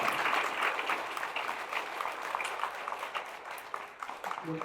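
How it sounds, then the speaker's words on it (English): Audience applause at a Big Brothers Big Sisters of Metro Atlanta graduation celebration, a steady wash of many hands clapping that holds evenly throughout and fades slightly near the end. "So let's give them a round of applause."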